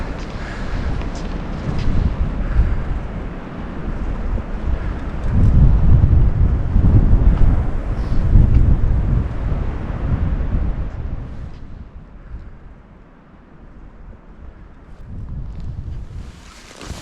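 Open-air wind roars and gusts against the microphone during a backcountry cross-country ski outing in record cold in New Hampshire's White Mountain National Forest, loud and buffeting, then easing toward the end.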